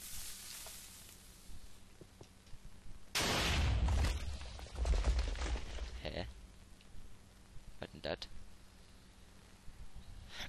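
Wargear weapon fire on Xbox: a loud burst of rapid shots followed by a second shorter volley and a few isolated cracks, with someone talking in the quieter stretches.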